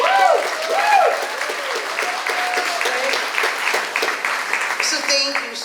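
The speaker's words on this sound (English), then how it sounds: "Can I have just a little round of applause?" A small audience at a community event in Hudson County gives a brief round of applause, steady clapping from many hands close by that tapers off as a voice begins speaking over it.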